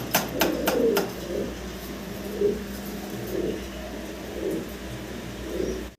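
A pair of grizzle-coloured Hungarian Budapest pigeons coo softly at close range, a low repeated coo about once a second, after a few sharp clicks at the start.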